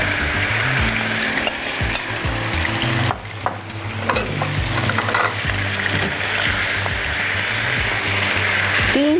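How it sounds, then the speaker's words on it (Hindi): Marinated chicken for roast chili chicken fries in about half a cup of hot oil. A loud, steady, close sizzle runs throughout, broken by scraping stirs and spatters. "आधा कप तेल में मैरिनेटेड चिकन डाल के और मैं उसको रोस्ट कर रही हूँ"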